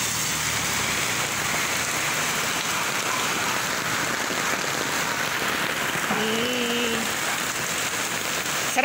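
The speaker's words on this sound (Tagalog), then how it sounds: "Malakas ang ulan." Heavy rain pours steadily in a dense, continuous hiss, close by and loud, with no talking.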